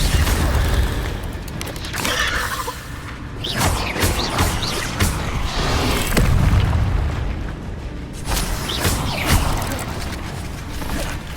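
An Incendio fire spell is cast in Hogwarts Legacy amid combat, loud booming bursts and whooshing blasts rolling over a busy game soundtrack.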